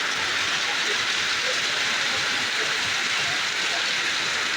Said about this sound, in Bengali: অনেক বৃষ্টি, অঝরে বৃষ্টি নামতেছে